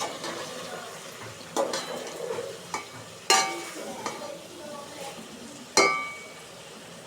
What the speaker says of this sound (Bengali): এখন আমি দ্বিতীয়বারের মতো ঢাকনা উঠিয়ে তরকারিটা নাড়াচাড়া দিয়ে নিব যাতে পাত্রের সাথে না লেগে যায়